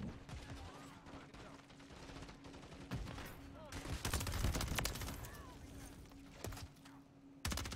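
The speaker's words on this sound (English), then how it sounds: "I'm getting shot from God knows where." Rapid gunfire in a shooter video game, with repeated sharp bursts and volleys at moderate level over a busy background of game noise, louder shots clustering toward the end.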